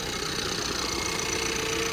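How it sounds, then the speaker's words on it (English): A Ford Bronco Sport Badlands' 2-liter turbocharged EcoBoost four-cylinder idles steadily with the hood open, a continuous close engine hum with a faint rattly texture and no talking. "the 2-liter turbocharged EcoBoost motor, which is in a lot of Fords"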